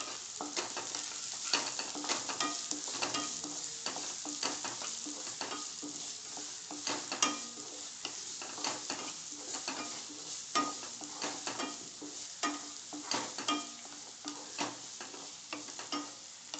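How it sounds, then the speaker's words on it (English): Onions sauté in a hot pan on a high flame for a red kidney bean curry, with a steady sizzle and frying hiss and repeated light scraping strokes of stirring throughout, no voices. "and to it I'm going to even add the onions. Now I saute it for a minute or so."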